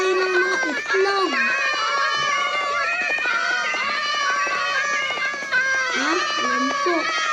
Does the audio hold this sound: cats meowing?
yes